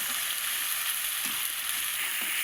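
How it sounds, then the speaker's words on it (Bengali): Ground cumin, ginger, dried red chilli and garlic paste fried with onion in a pan, a dense continuous sizzle that stays loud and even throughout, with a few faint low stirring knocks and no voices. "এই মশলাটা পেঁয়াজের সঙ্গে আমি খুব সুন্দর করে ভেজে নেব।"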